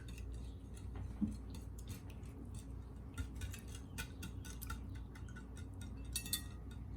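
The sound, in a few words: mixing eggs in a bowl for almond flour cake batter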